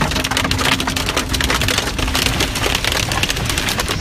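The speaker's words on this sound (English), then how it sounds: "yesterday another afternoon blast of pelting rain" Heavy pelting rain batters surfaces during an afternoon storm in Sydney, a loud, dense, continuous downpour with no voices.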